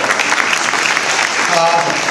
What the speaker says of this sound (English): you all yourself deserve a great round of applause